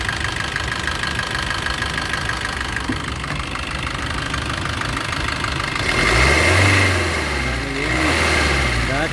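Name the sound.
2017 Maruti Suzuki S-Cross diesel engine idling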